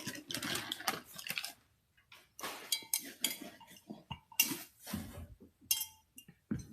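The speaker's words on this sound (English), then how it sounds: "It's a cocktail stir." A cocktail stirrer is picked up and handled, giving a scattered series of faint, close clinks and light knocks with brief quiet gaps between them.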